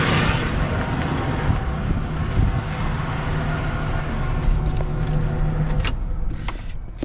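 A Ford OBS truck engine runs with a steady low rumble and hum, then is switched off near the end, leaving quiet clicks and clatter as the sound cuts away; no one speaks.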